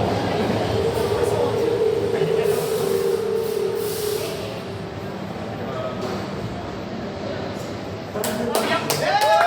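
A subway train idles and whines at Franklin Square station with a rumbling hum, then brakes squeal briefly near the end while people talk.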